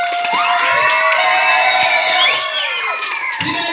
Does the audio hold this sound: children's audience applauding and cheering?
yes